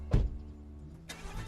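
A car engine turns over with a sharp burst of ignition, settles into a low idle, then revs up again as the car pulls away. No talk over it.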